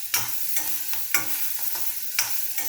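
Manathakkali greens with crushed garlic sautéing in a pan, a steady close sizzle broken by a series of sharp scraping stir strokes, each one loud and clear, with no talking.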